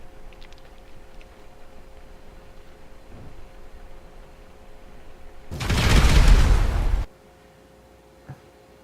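A vehicle blows up in GTA 5 with one broad, loud roaring blast lasting over a second, preceded by quiet game ambience.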